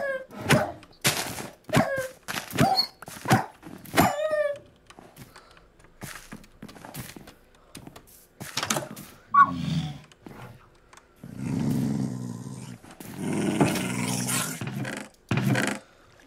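Wolves in the Minecraft video game growl in several rough, rumbling bursts in the second half, after a stretch of sharp, clipped game sounds and brief tones.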